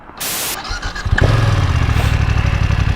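A BMW F900XR parallel-twin motorcycle engine cranks, catches and fires up, settling into a loud, lumpy idle that pulses steadily; no talking.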